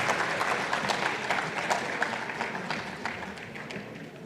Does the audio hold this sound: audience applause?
yes